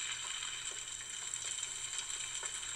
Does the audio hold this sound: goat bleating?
no